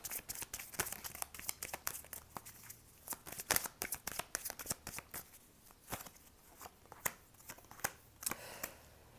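Tarot cards shuffled and dealt onto a table, a steady run of crisp, close riffles and slaps with rustling between them, heard alone without voices.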